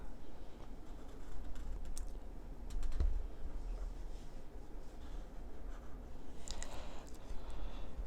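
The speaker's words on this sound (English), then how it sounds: "So I'm going to write the letter A." A calligraphy pen scratches across paper while forming the letter A, with steady soft strokes and light taps close by over a quiet background hiss.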